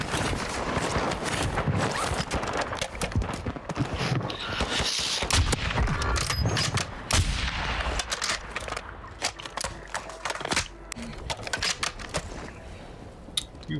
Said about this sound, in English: I'm shooting through this fucking guy!